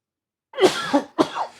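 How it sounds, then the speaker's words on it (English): Two harsh coughs up close, the first drawn out and the second short and sharp, with silence before them. "the cough always remains for like weeks afterwards"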